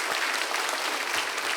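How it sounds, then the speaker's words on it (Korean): A church congregation applauds during a Sunday worship service at a missions event, a brief dense wash of clapping from a crowd. "우리 볼프 목사님과 선교사님들을 다시 한번 더 우리 환영의 박수 한번 격려의 박수를 드리겠습니다."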